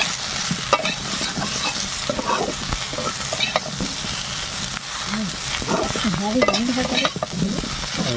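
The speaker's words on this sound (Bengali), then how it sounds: "দেখতে পাচ্ছেন ভাজা হচ্ছে আমাদের ফুলকপি" Cauliflower florets fry with turmeric in a hot pan, giving a loud, steady sizzle and crackle with stirring scrapes throughout, while a voice occasionally murmurs in the background.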